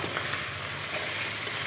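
Fried fish heads tipped into a pan of sizzling spice masala, a steady loud hiss and crackle of hot oil throughout, with no voices.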